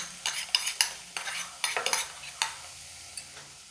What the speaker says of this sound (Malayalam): എണ്ണ ചൂടായി കഴിയുമ്പോൾ അതിലേക്ക് ചെറുതായി നുറുക്കി വെച്ച് വെളുത്തുള്ളി ഒരു 4 അല്ലി വരെ ചെറുതായി നുറുക്കിയത് അതിലേക്ക് ചേർത്ത് കൊടുക്കുക.